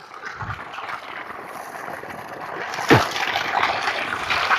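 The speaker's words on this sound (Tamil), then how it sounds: "வெயில் வந்து கம்மியாக இருக்கனால தான் தண்ணி ஸ்லோவாக விழுது." Water from a newly drilled borewell pipe on farmland, flowing slowly in weak sunlight, gives a soft continuous splashing trickle with a brief louder slosh near the end and no talk.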